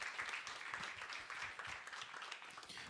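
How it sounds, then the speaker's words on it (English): Audience applause at a public forum session in Rwanda welcoming a speaker to the stage, a steady wash of many hands clapping at moderate distance throughout, fairly quiet and even. "Please, round of applause for Linda Yu, Dr."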